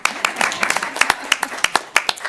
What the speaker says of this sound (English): With that, I'm going to clap.